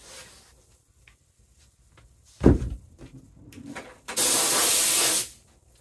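Glue sprays onto a classic car's door panel from a long hose line: a single steady, loud hiss lasting about a second, preceded by a sharp thump and some faint handling noises.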